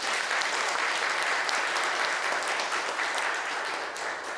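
A church congregation at a Sunday service breaks into sustained applause, a dense, steady wash of many hands clapping together from start to finish, with no speech over it.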